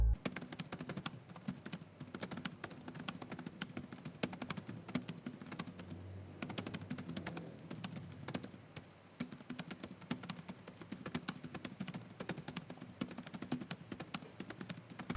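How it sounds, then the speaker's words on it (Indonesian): Someone types on the keyboard of an ASUS VivoBook Pro 14 OLED K3400PH laptop, producing quick, irregular clusters of light keystroke clicks up close, with a brief lull midway before the tapping resumes. "contoh suara feedback dari keyboard Asus VivoBook Pro 14 OLED"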